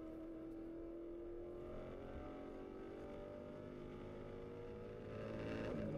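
A Maserati Trofeo race car at the race start in Abu Dhabi, heard onboard: a steady droning engine note that climbs in pitch as it accelerates, swelling louder near the end.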